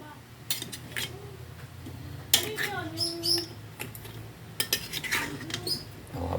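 Pork ribs are stirred in a cooking pot, giving scattered metallic scrapes and utensil clinks at uneven intervals while people talk nearby.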